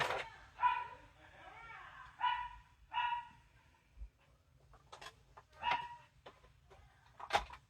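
A dog being looked after while its owners are away barks in short bursts, several yaps spaced irregularly, fairly faint in a quiet room with soft voices at times.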